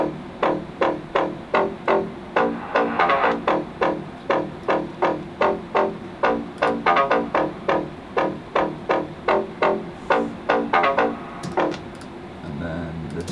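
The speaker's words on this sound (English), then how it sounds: "And I've also got this serum, which is like a more harsh bass house kind of layer." Harsh bass house synth layer made in Serum, pulsing in a steady rhythmic pattern of short, gritty, buzzing stabs, loud and close, fading into a quieter tail at the end.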